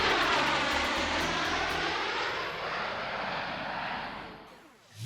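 An SR-71 jet tears past at maximum speed at low altitude, a loud continuous roaring rush that swells and then fades away, ending in a dip before the sound cuts off.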